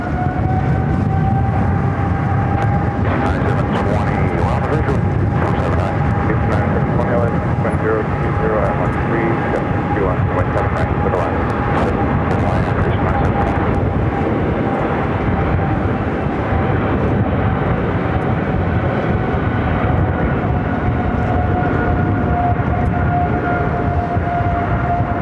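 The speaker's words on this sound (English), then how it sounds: "Korean Air Cargo 777 freighter. Next takeoff on 7 left." A Korean Air Cargo Boeing 777 freighter takes off on runway 7 left at LAX in extreme winds, a loud sustained jet roar with a steady engine whine running the whole time, while a voice talks over it.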